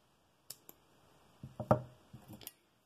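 Scissors snipping a household rubber band, a handful of short crisp clicks and cuts spaced irregularly, close and quiet with no talk.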